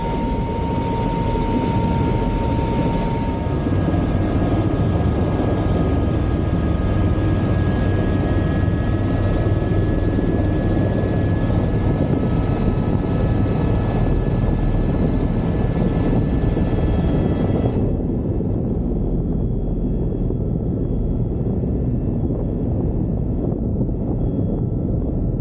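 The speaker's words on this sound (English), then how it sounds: "a video from a helicopter tour that me and my brother-in-law did in Hawaii" Steady loud roar of a helicopter in flight on a tour over the Big Island of Hawaii, rotor and engine noise continuous throughout, close and enveloping with no pauses.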